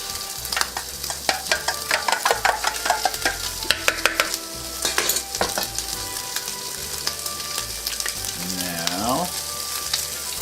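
Bacon frying in a pan, a loud crackling sizzle broken by frequent sharp utensil taps and scrapes, with a brief tonal squeal near the end.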